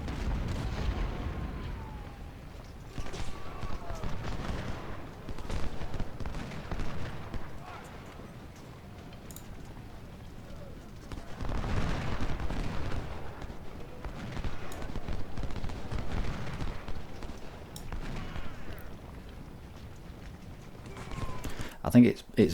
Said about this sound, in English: Alright, that's shell fire.